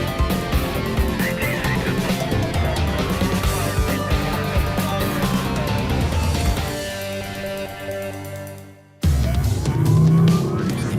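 Police car in a high-speed night pursuit of a fleeing car in Wales, engine roaring loud and close with shifting pitch, a brief drop near the end, then the engine surging again.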